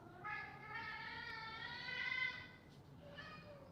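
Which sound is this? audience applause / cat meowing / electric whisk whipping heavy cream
cat meowing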